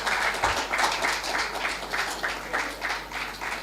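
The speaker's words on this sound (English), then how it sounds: "I'd like you to give all our debaters a big round of applause," A school audience at a secondary schools debating competition applauds the debaters, steady crowd clapping with a loose pulsing rhythm and a low hum underneath.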